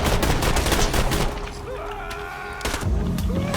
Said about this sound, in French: la mitrailleuse est de sortie